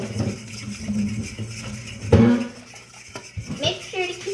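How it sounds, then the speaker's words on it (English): Lemon curd being stirred in a pot by hand: a utensil scrapes and clinks against the pot in an uneven rhythm, with one sharper knock partway through, fairly close and alone. "we want to stir it until it's thick"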